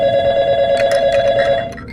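Telephone ringing: a loud, steady electronic bell tone rings continuously for about two seconds, close and alone, with faint clattering underneath.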